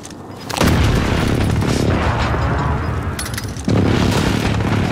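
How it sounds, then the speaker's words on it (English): Airstrike explosions on Rebirth Island in Call of Duty: Warzone, two heavy booming blasts close by, each followed by a long rumbling roar that fills the clip with no talk over it. "Bringing down an airstrike."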